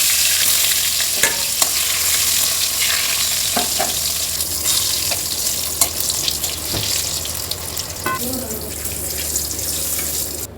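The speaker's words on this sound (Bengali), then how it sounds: "বাকিগুলো এইভাবে ভেজে নেব।" Slices of pointed gourd (potol) fry in oil with a steady, loud sizzle and bubbling, punctuated by occasional clinks and scrapes of a spatula against the pan.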